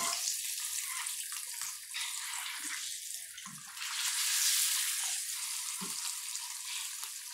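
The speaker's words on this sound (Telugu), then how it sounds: "చూడండి, ఆల్రెడీ మంచిగా వేగుతుంది." Eggs fry in oil in a non-stick pan, giving a steady bright sizzle with a few soft pops and swells, heard alone without talk.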